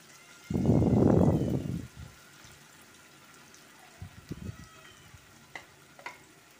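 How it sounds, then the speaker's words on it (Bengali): Potato laccha pakoras drop into hot oil, setting off a loud burst of frying that lasts about a second and then dies away. A few softer bumps and clicks follow in near silence. "গরম তেলের মধ্যে এক এক করে পাকোড়াগুলো আমি দিয়ে দিব।"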